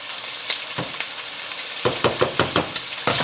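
Mushrooms sizzle and fry as they reduce in a pan, with a steady close crackle broken by a series of rhythmic knocks and scrapes from stirring.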